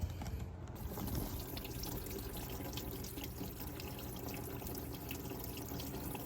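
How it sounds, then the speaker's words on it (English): Steady rushing clean water flows continuously through a Dodge Charger reservoir, a full, even gush like a running tap or pipe, with no voices. "I'm gonna go ahead and run some clean water through it"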